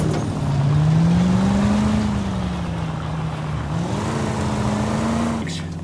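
Car driven recklessly in L.A. Noire, set in 1947; a loud continuous engine drone that rises and falls in pitch as it accelerates, ending with a brief knock.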